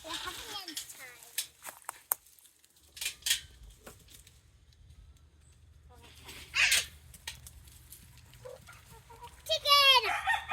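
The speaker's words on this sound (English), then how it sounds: "Some chickens in the cage. Chickens, come here." Caged chickens cluck and squawk in short bursts, sometimes near and sharp, with a steady low hum underneath and people talking at times between the calls.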